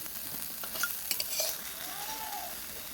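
Eggplant frying in oil in a kadai, with a soft steady sizzle and a few light clinks of a utensil stirring and lifting the cooked slices; no voices.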